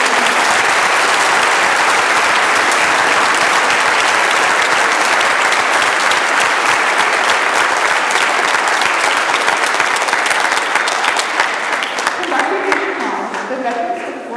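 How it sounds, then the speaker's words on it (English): Crowded, steady applause fills a high school Veterans Day program as the audience honors veterans. The clapping stays loud and even, then thins slightly at the end. "Let's give a round of applause for our veterans."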